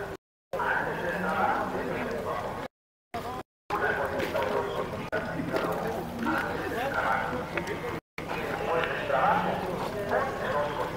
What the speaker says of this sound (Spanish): Están los caballos, miren